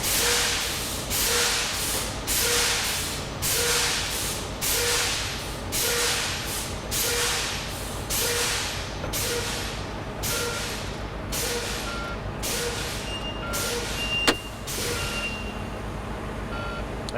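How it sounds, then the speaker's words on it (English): Tractor-trailer air brakes are pumped repeatedly during an inspection, sharp hissing bursts of air about once a second, with a faint beeping tone near the end. "Gonna fan my brakes down now."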